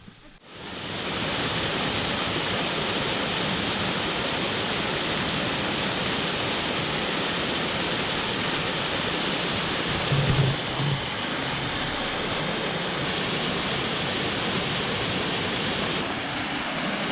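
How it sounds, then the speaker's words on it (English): A waterfall in Revelstoke National Park roars in a dense, unbroken rush of water that holds steady and loud throughout, with a faint brief knock partway through. "Let's go check out the waterfall."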